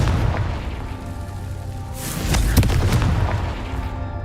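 A Confringo blasting spell goes off in the Hogwarts Legacy game with a loud booming explosion and a sharp crack, followed by a rumbling tail over a steady background bed.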